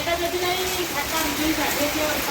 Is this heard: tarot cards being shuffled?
no